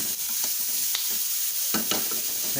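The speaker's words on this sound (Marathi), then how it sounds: "तर कांदा ठेवतो भाजून घेतोय" Onion roasting in a pan sizzles with a constant bright frying hiss, broken by several scraping stirs and soft knocks close by; nobody speaks.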